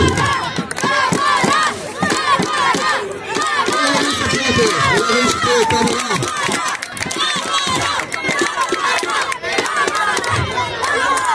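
Dense football crowd of Dinamo and Rapid supporters at a youth-versus-old-boys exhibition match, loud continuous roar of shouting and applause filling the stands, with voices rising and chanting throughout.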